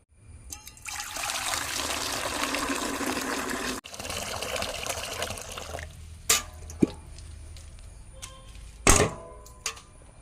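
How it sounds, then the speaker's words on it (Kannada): A cow milked by hand into a vessel: steady hissing streams of milk run for several seconds, break briefly, then give way to scattered splashes and a few sharper knocks near the end. "ಇನ್ನು ಹಾಲು ಕರೀತೇನೆ"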